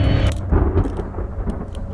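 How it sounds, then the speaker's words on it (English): Rumbling thunder from a lightning storm over a creepy courtyard obstacle course in the hidden-object game Haunted Hotel 8: Eternity, heavy low booms rolling continuously for two seconds with music faintly underneath. "we've got lightning going on up there"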